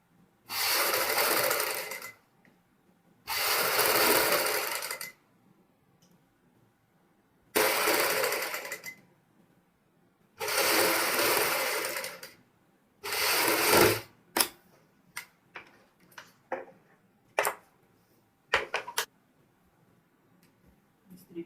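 A sewing machine stitches beside buckram on a boat-neck blouse piece in several long, even runs of close whirring, then a string of quick short bursts and taps. No one speaks.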